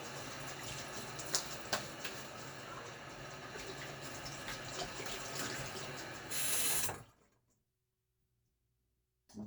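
Tap water runs steadily to rinse a Gillette Fat Boy 1960 safety razor, a close continuous splash with a brief louder hiss before it shuts off into near silence.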